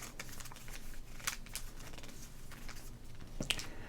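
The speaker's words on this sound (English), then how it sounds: "We have 1990 Fleer, tightly wound, almost non-crinkable pack of cards." Fingers handle a tightly wound 1990 Fleer baseball card pack, giving soft close-up crinkles, rubs and small taps with a few sharper crackles, no talking.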